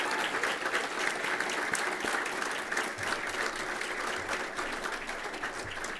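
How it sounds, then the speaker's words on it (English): Sustained audience applause fills an awards dinner hall, a dense, steady wash of many hands clapping at close range for the full stretch without a break. "Let's give them a big round of applause."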